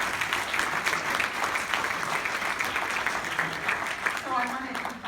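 An audience applauds a speaker with sustained, loud clapping that fills the room throughout, and a voice briefly speaks near the end under the clapping.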